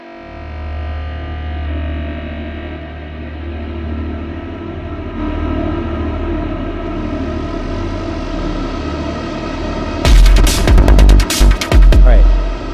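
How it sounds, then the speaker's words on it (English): Electronic techno tones wash through a massive Valhalla Supermassive reverb plugin as a long, smeared sustain, then loud, distorted, stuttering bursts erupt near the end. "some massive reverb"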